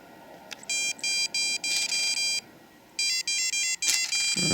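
Electronic fishing bite alarm from AliExpress, set to its sprat tone, sounds in quick repeated bursts: a run of five short beeps, a pause, then four more, clear and close over faint background hiss.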